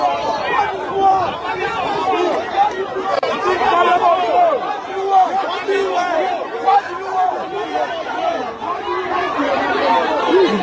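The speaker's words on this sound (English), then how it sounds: "Did you see the crowd?" Dense crowd chatter at a political rally, a steady loud babble of many overlapping voices with no single speaker standing out.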